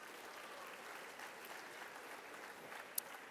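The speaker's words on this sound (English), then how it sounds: "Would you give her a round of applause" An audience at a heritage program gives a round of applause, a steady even wash of clapping heard from a distance at low level, with one sharp click near the end.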